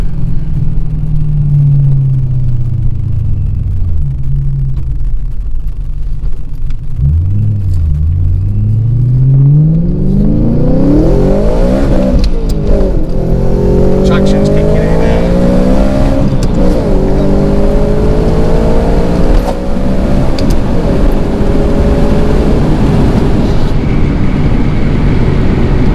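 A supercharged V8 in a BMW E92 M3 revs and accelerates hard, its loud, continuous engine roar rising and falling through gears with supercharger whine, close and without talk.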